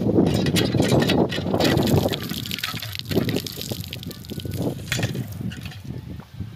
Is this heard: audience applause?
no